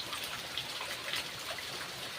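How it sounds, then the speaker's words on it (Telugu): Continuous rain falling, a steady soft hiss with scattered drops, fairly faint and even throughout. "వర్షం కంటిన్యూ పడుతూనే ఉంది"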